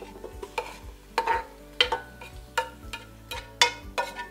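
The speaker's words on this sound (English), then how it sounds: "Okay, let's get all the onions in there." Onions stirred in a hot pan of roux for French onion soup, with a series of sharp scraping and clattering strokes at an uneven rhythm over a soft sizzle, close and fairly loud.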